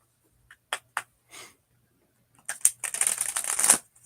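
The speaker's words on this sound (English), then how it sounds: "was a decent shuffle" A deck of tarot cards shuffled by hand: a few isolated soft card flicks, a pause, then a busier riffling burst of papery rustles and snaps, close and fairly quiet with no talking.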